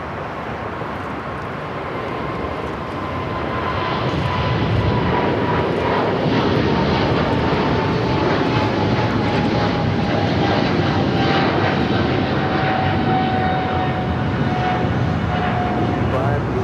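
Airliner at Los Angeles LAX airport, a loud broad roar that swells after a few seconds and holds steady close by, with a tower radio voice talking under it.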